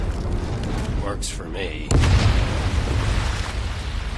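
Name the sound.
explosion in the video game Medal of Honor Above and Beyond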